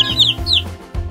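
A cartoon chick gives two quick, high, bright peeps in a row, clear and close, followed by a lower thump-like sound near the end.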